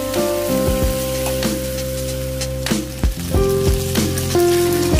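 Papaya flowers stir-fried with tauco and fried shallots in a hot pan give a steady, loud sizzle with a crackling, rain-like patter, while a bright ringing tone rises and falls over it.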